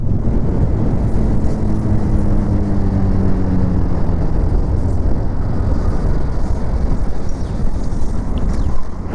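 Bajaj Pulsar 220F motorcycle, a 2026 E20 fuel-compatible model, running with a steady loud engine drone and heavy wind rush throughout, revving slightly early on.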